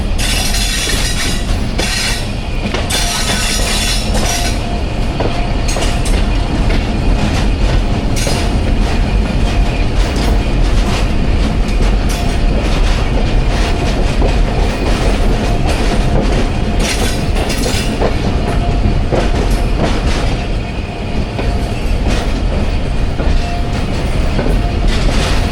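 Train wheels clatter steadily along the rails aboard the slow 13 UP Awam Express between Rawalpindi and Attock, a loud continuous rumble with rhythmic clickety-clack that holds without a break throughout.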